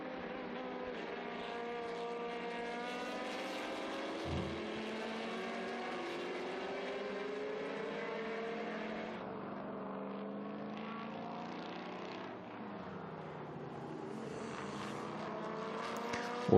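Historic race cars on a circuit, a Chevron B19 diving past a De Tomaso Mangusta, heard as a steady, sustained engine drone with shifting pitch as the cars pass, distant and fairly quiet.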